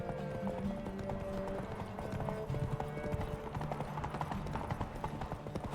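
The horse Roach gallops in The Witcher 3, with rapid rhythmic hoofbeats that carry on steadily at moderate volume, along with brief whinny-like tones and faint music underneath.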